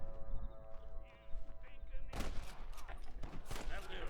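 Gunfire in the Red Dead Redemption 2 video game: after a low rumbling stretch, a burst of loud, dense shots erupts at mid-clip and continues as rapid overlapping cracks and thuds.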